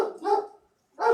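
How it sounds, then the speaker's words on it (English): A pet dog barks indoors in two short bursts separated by a brief pause, close and fairly loud, with no talking over it. "I'm not barking, by the way. That's my dog."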